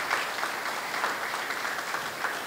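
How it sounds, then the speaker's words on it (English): An audience at a children's Sunday worship service applauds, a moderately quiet, steady patter of many hands clapping for a couple of seconds. "Can you give a big clap"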